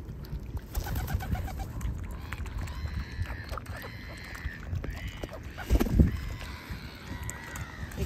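Swans call repeatedly in soft, honking tones, medium distance, over a busy outdoor background with a low rumble and a thump partway through.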